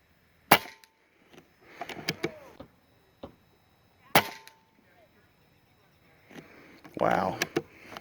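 Air Venturi Avenger .25 air rifle firing a JSB Exact King 25.4 grain pellet at 50 yards, filled to 2400 PSI: two sharp, loud cracks a few seconds apart, with quieter handling clicks and a voice speaking near the end.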